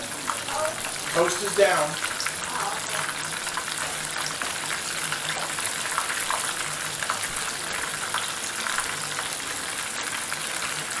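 Shrimp frying in a pan, a steady broadband sizzle running throughout under a brief spoken remark.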